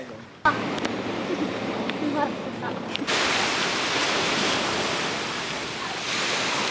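Steady rushing surf and strong wind on a beach in Italy fill the air, loud and broadband, with a voice faintly audible at the start before the roar swells.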